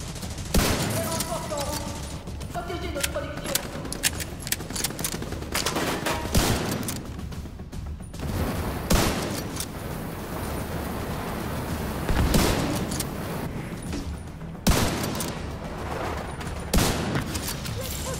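Gunfire in The Division 2 endgame combat, dense automatic bursts with sharp louder cracks at irregular intervals throughout a long stretch, close and continuous, with speech mixed in.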